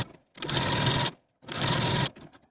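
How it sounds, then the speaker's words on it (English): A sewing machine stitches a long basting seam on lace in two steady, rapid runs, each about three-quarters of a second long. A short pause separates them, and the whirring mechanical chatter is close and loud. "Sew with about a 1/2 inch seam allowance all the way to the other side"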